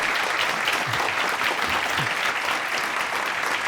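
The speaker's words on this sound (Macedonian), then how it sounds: "Абе, аплауз поголем." Studio audience applause on a Macedonian talk show, a continuous loud wash of clapping with a faint low murmur beneath it.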